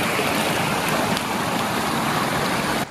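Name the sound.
heavy water flow into a lake after rainstorm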